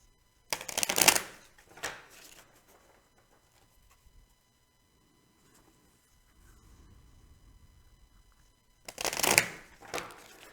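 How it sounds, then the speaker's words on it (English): Tarot cards are shuffled in quick riffling bursts, a pair of flurries at the start and another near the end, close and crisp, with quiet stretches between and no talking. "let's pull 4 more cards for justice"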